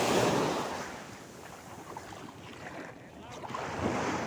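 Sea waves and gusty wind surround a fishing boat out on open water, a steady rushing wash with swelling surges and microphone buffeting, no clear talk.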